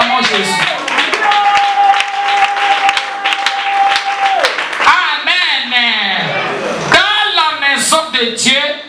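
A church congregation claps loudly and continuously, mixed with raised voices and cheering from the crowd.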